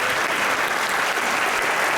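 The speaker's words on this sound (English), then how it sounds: "We give them a round of applause." An audience claps for first-time attendees at a meeting, a short burst of dense, steady applause filling the room, fairly loud and close throughout.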